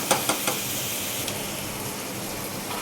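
Taro root curry seasoned with chili powder sizzles and simmers in a pan, a dense continuous frying hiss up close, opening with a few quick clinks of a utensil and no talking.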